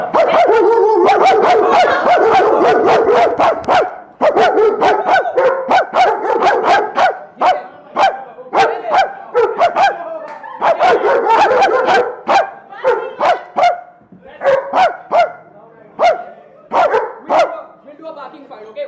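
A dog barks in short, repeated sharp bursts and yips at close range, sometimes in quick volleys and sometimes spaced apart, while people talk nearby.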